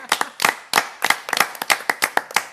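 A small group claps at a school board meeting, a dozen or so uneven, sharp hand claps over under three seconds, close and fairly loud, with no talk.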